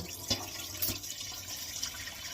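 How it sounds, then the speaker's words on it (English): Strained liquid poured into a container, a soft steady watery trickle with a couple of brief splashy accents, fairly quiet and close, with no talking. "I'm going to strain this right now. I'm going to just pour this in here."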